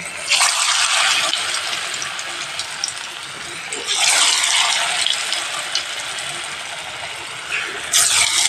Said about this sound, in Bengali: তেলও গরম হয়ে গেছে। এবার একটা একটা করে আমি ফ্রাই করে নেব।